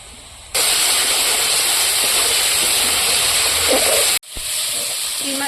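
Shrimp frying in hot oil in a pan, a loud continuous sizzle and hiss that fills the space, broken by one sudden brief dropout before the sizzling resumes slightly quieter.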